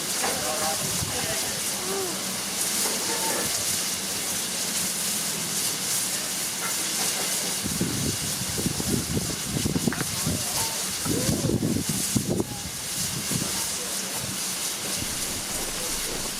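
A steam train at Appleby station on a wild, windy day hisses steadily, with a broad, roaring wash of steam and wind noise and some louder bursts midway, fairly close.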